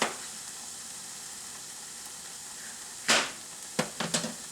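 Onions tossed into a hot frying pan give a soft, steady sizzle that runs quietly throughout, broken by a louder burst of hissing near the end and a few sharp clinks of utensils against the pan.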